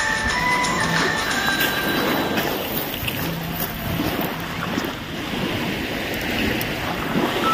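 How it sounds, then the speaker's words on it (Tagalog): Ocean surf washing onto the beach at Cobrador Island, a steady broad roar of waves mixed with gusting wind noise across the microphone, continuous and fairly loud with no speech. "At, ayan na po ang karagatan."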